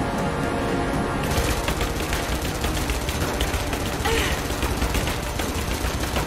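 Rapid bursts of gunfire from enemies in the video game Rise of the Tomb Raider rattle continuously and loudly, dense automatic shots with game sounds layered underneath.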